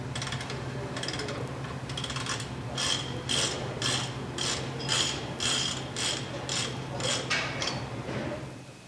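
Pipe threading die being backed off a pipe, giving a rhythmic series of metallic ratcheting clicks and grinding scrapes that repeat steadily, close and fairly quiet.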